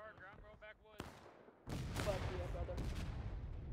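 After a brief voice, a sharp report and then a heavy, sustained roar of cannon fire with rumbling booms, loud and dense, from artillery in the Civil War video game War of Rights.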